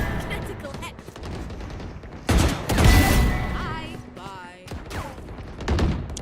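Gunshots in a competitive Valorant match, several sharp bursts of fire, one loud cluster midway, mixed with game effects and under a streamer's talking.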